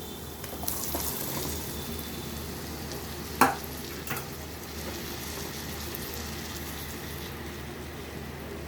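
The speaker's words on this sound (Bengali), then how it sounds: "আগে আমি দিয়ে দেব এই চিচিঙ্গাগুলো" Snake gourd pieces fry in a pan with a steady, close sizzle and a couple of soft stirring knocks partway through, with no voices.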